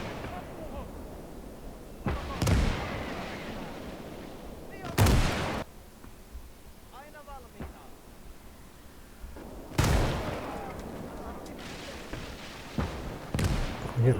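Artillery fire and explosions in the WWII strategy game Call to Arms: Gates of Hell, a few heavy booms spaced several seconds apart with rumbling between them, someone talking over the battle.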